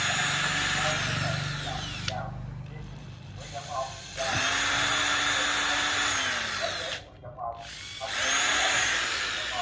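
A used Japanese 100V, 160W electric drill runs in several bursts with a whining motor hum, stopping briefly between runs, while someone talks over it.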